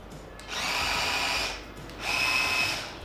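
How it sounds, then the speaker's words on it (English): A small food processor chopping cauliflower heads whirs in two short bursts of about a second each, with a brief pause between them, close and fairly loud. "put it in a small food processor, or if you have a larger one, use that"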